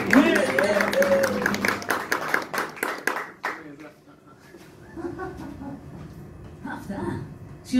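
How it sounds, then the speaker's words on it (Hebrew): A live audience claps at a jazz concert of Ella Fitzgerald and Billie Holiday songs, a dense burst of applause that thins out and fades after about three seconds, followed by talking. "מה עם עוד זה סבב כפיים לרינת"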